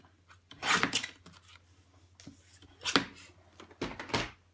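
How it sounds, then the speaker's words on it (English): Scissors cut a piece of paper cardstock in half for a stamped greeting card: a few crisp, close snipping and sliding bursts separated by quiet pauses. "So I'm just going to cut that in half."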